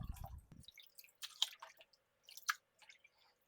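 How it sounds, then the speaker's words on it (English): Curly kale gets dunked and stirred in a pot of cold water, giving faint wet sloshes, drips and leafy squishes in scattered bursts with quiet gaps between them. "So I'm going to give it a good dunk in this larger pot of cold water"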